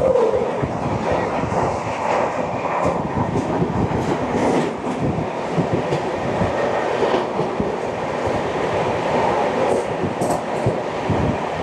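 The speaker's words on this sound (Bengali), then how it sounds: "ট্রেন নাম্বার 123-14 নতুন দিল্লি থেকে শিয়ালদা রাজধানী এক্সপ্রেস" The New Delhi to Sealdah Rajdhani Express, train 12314, thunders past near Gangpur station, heard from a neighbouring train as a continuous close rumble with rhythmic wheel clatter and rattling.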